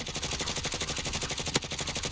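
Rapid automatic gunfire in Call of Duty: Warzone, fired into a house, rattles continuously in a steady rhythm, with one sharper crack standing out near the end.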